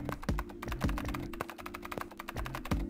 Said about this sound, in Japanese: ヤシロは相変わらずキーボードを叩き続ける。